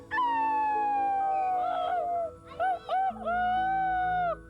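A coyote howls in long, sliding tonal wails, one drawn-out cry followed by shorter broken yips and a final sustained howl, clear and close with no talking.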